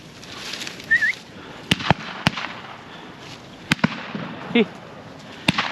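Black powder muzzleloader shots fired outdoors at a shooting day, several sharp distant reports spread across the clip, with brief calls and talk in between.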